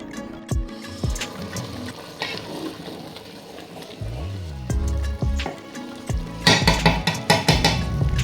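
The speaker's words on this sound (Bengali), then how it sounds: "কিশমিশ দেওয়ার পর ভালো করে নেড়েছে" Raisins being stirred into Bangladeshi pulao in a cooking pot, with a spoon scraping and clinking against the pot in irregular bursts that grow busier and louder toward the end.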